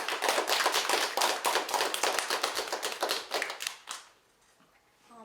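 A school audience at a middle-school youth debate claps to welcome a student speaker: brisk, crisp applause from a moderate crowd that thins and stops near the end, leaving quiet room tone.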